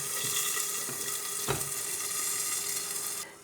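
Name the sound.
tomatoes frying on half heat in a pan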